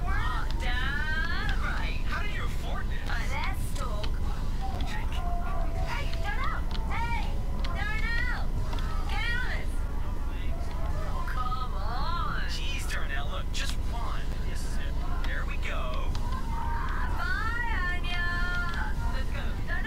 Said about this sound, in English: Sorry for the noise. The crew surprised me with a shindig.